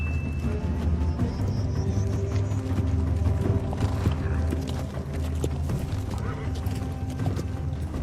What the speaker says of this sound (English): Half-conscious Drogo is somehow able to keep his horse on track, despite leaning wildly from side to side.